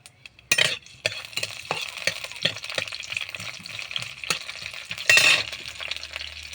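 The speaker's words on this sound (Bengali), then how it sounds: "একটু ভাজাভাজি হয়ে যাক" Onion, garlic and black cumin seeds sizzle in hot oil in a kadai on a stove, with steady frying crackle and repeated clinks of a spoon stirring against the pan, including a few louder scrapes; no talking.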